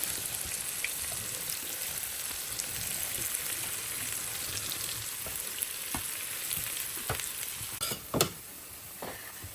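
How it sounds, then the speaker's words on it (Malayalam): Onions frying in a pan for chicken biryani give a steady, close sizzle throughout, with a few sharper pops and clicks of stirring near the end and no talking. "സവോള വറുത്തെടുക്കാൻ പോവാണ്."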